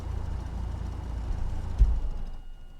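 Engines of a Duchess Model 76 twin in the X-Plane 11 flight simulator idling with a low rumble, a brief thump near the end before the sound cuts away and fades.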